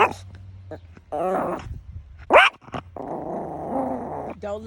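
A dog growls and barks in bursts in a backyard with chickens nearby, close and fairly loud, with a brief sharp yelp in the middle and steady low rumbling growls between.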